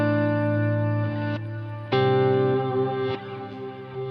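Sustained electric guitar chords through a Line 6 HX Stomp's poly pitch, delay and reverb, held in long, rich tones, each swelling with echo and a washy reverb tail as the chord changes twice.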